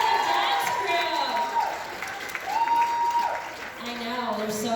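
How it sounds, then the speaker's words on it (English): Crowd applause for a dance crew at a corporate gala, a broad wash of clapping mixed with rising and falling cheers and whoops from the audience, loudest early then easing slightly. "Can we give a round of applause for Azuka and the dance crew?"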